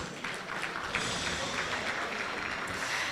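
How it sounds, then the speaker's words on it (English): Audience applause at a gala dinner of an old students' society, a steady, fairly faint wash of many hands clapping from the room, continuous for the whole stretch with no voices on top. "A warm round of applause."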